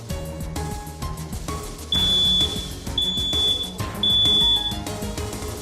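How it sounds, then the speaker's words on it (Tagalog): Household smoke detector alarm sounding loudly in repeated shrill high-pitched beeps over a steady layer of background music, with no talking. "Mahalaga sana na sa bawat bahay ay meron tayong smoke detector na nakalagay sa sala o kwarto."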